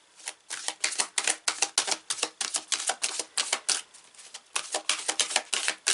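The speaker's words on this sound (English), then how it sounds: "Just going to push my keyboard." Computer keyboard on a desk, heard as a rapid run of sharp clacking taps and knocks close up, dense and irregular for several seconds with no talk.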